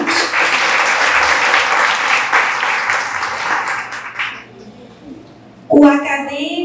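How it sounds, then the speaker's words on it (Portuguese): Audience applause at a Brazilian school event, filling the room for about four and a half seconds before fading out, followed by a short burst of speech. "Palmas, gente."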